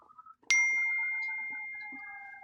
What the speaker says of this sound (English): And there's a notification.